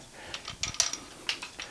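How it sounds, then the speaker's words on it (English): A Polaroid SX-70 folding camera's film door is released by a button and pops open, making a quick series of faint mechanical clicks and small snaps close by in a quiet room. "we're going to open the film door while the shutter's open with this button right here. So this button causes this to pop down."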